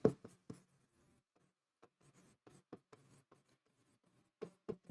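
Pen writing on paper during a Class 6 maths lesson on simple interest, faint scattered scratchy strokes with a few louder taps at the start and end and quiet pauses between.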